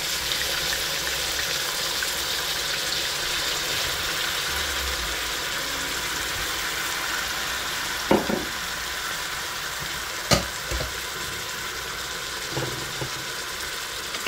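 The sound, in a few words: stirring sizzling chicken apritada in a pan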